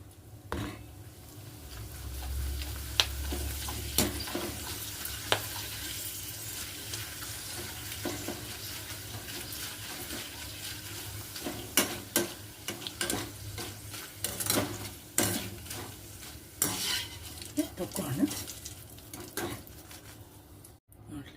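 Oil heating in a pan on a gas stove hisses and sizzles steadily, with a spoon clinking and scraping against the metal now and then, under a voice talking throughout.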